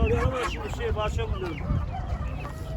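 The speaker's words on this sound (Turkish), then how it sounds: "Arkadaşlar burada böyle köylü civcivleri falan var." Village chickens cluck and chicks peep busily amid a crowded poultry market din in Ankara, Turkey, with people talking nearby.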